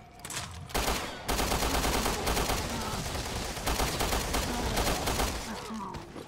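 Gunfire in the video game Resident Evil Revelations 2: a dense, loud, near-continuous stream of shots and blasts, with brief gaps, amid game noise.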